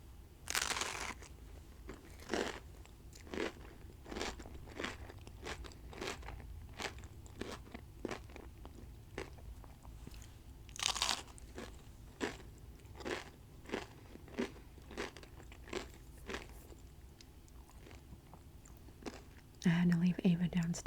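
Close, crisp crunches of chips eaten with a peanut butter and jelly sandwich repeat steadily at about one bite every second, with quiet chewing and rustling between.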